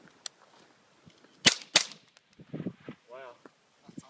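A suppressed AR-15 rifle fires two sharp, fairly close reports in quick succession, with faint clinks and a few quiet voices in the pauses between.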